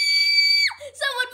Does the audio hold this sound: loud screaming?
yes